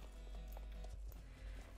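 Horses' hooves clip-clop softly in a western video game, a quiet, uneven run of hoof knocks over a low background hum, with no talk.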